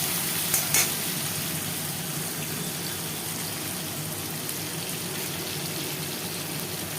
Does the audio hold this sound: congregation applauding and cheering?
no